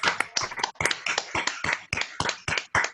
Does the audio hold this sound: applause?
yes